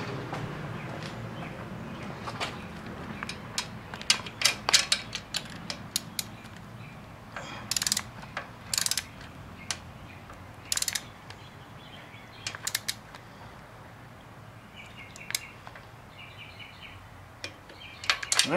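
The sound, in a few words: torque wrench tightening rocker box bolts on 2008 Sportster XLC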